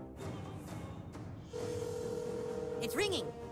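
A steady electronic ringing tone from a phone in South Park: The Stick of Truth sounds over game noise, followed by a brief rising chirp near the end.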